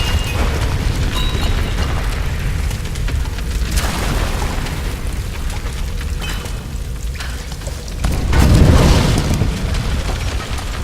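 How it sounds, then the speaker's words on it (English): A barrel blows up in the 2013 Tomb Raider video game, a loud deep boom swelling out of a steady rumbling, crackling game soundscape, with other bangs and debris noises around it and no speech. "Explode that barrel."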